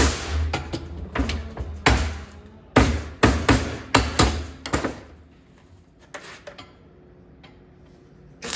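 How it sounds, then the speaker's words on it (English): A hammer strikes a welded metal piece as a finishing touch: about a dozen sharp, close knocks in uneven bursts, then a few softer, sparser taps trailing off. "Finishing touch with hammer."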